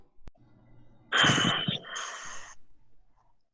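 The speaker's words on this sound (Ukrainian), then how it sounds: "Ну важко дихаєте щось." Heavy, wheezy breathing close to the microphone, with one or two labored breaths lasting about a second and a half, followed by quiet.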